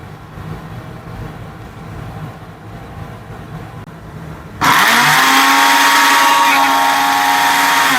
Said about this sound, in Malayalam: അപ്പോൾ നമുക്ക് ആദ്യം ചെമ്മീൻ നമുക്കൊന്ന് ചെറുതായിട്ടൊന്ന് ക്രഷ് ചെയ്തെടുക്കാം കേട്ടോ